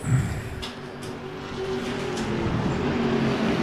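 TA2 race cars at Laguna Seca in a racing game: a steady engine drone builds slightly in loudness over a few seconds, with a faint whine on top and no talking.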